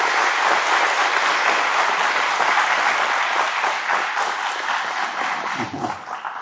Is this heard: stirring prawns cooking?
no